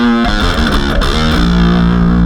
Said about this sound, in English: And then I've got this distortion. It's kind of an all-purpose distortion